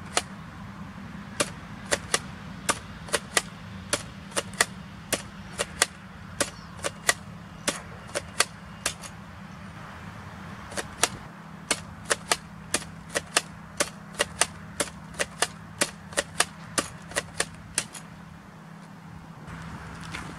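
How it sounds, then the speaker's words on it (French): Nerf Doomlands Vagabond blaster firing foam darts: a long series of sharp, close pops, each shot followed by a short gap of priming clatter, repeated steadily over a low background hum. "Je vais tirer 12 fléchettes avec le vagabond."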